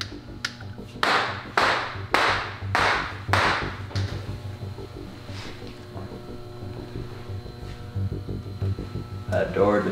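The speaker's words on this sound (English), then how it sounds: "That door just rattled." A door aboard a warship rattles in a rapid series of six or seven sharp metallic knocks, loud and close, then fades into low mechanical hum with a faint clatter at the end.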